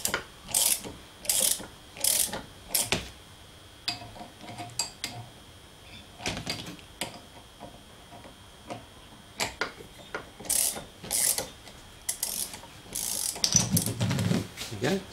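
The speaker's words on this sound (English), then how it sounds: "That's the bearings come out." A taper bearing being worked out of a 7x12 metal lathe, giving a series of sharp ratcheting clicks and metallic knocks in irregular bursts, close and fairly loud, with a rougher scraping near the end.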